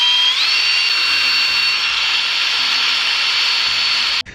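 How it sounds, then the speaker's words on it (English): A power drill whines steadily at close range while drilling holes for an aftermarket car hood latch, its pitch rising as it spins up and then holding for several seconds before stopping abruptly. "I'm going to lift it up and drill the holes."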